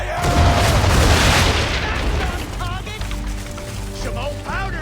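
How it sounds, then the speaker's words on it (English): Ship cannons firing a broadside in the Assassin's Creed video game, a heavy rolling boom of blasts that fades into a rumbling tail, with a voice speaking over the aftermath. "Now, aim all guns at her bow and do as much damage as possible."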